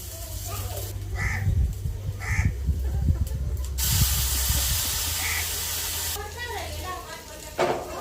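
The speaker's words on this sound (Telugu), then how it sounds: "పోపును అయితే ఇప్పుడు సాంబార్కి వేసుకునేస్తాను నేను." Hot Telugu-style tempering (popu) poured into a pot of sambar, giving bursts of spraying sizzle and hiss over a low steady hum, with a person talking in between.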